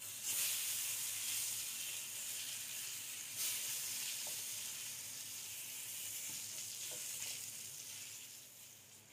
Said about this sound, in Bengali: এক সাইড ভেজে নিয়ে অপর পাশও আস্তে আস্তে ভেজে নেব